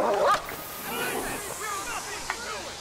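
Dog barking in the GTA Online video game, a couple of sharp barks at the start followed by whimpering, yips and soft whines, with voices talking over it.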